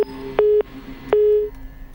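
A telephone line gives a disconnected tone during a call, short repeated electronic beeps in an on-off pattern, loud and clear against a quiet background with no talking.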